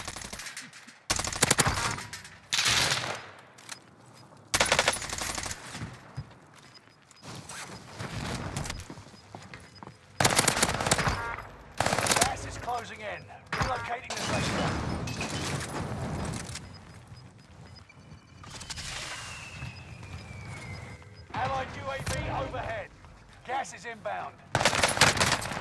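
Rapid bursts of ARMAGUERRA 43 submachine gun fire in a video game, loud and close, coming in repeated rattling volleys separated by short pauses, with scattered game effects between them.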